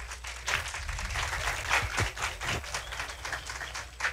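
An audience at a talk on designing a LinkedIn profile gives a round of applause, fairly close, moderately loud clapping that stays steady for a few seconds.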